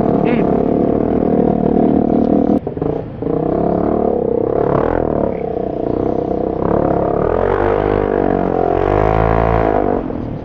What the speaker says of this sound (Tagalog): Ang ingay nitong scooter, grabe.